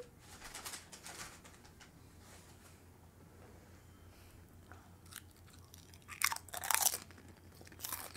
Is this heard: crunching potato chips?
yes